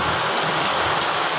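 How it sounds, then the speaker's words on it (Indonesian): Heavy rain pours down by a roadside, a loud, dense and unbroken roar of falling water with no voices heard. "hujannya sangat lebat di tempat aku di pinggir jalan seperti ini"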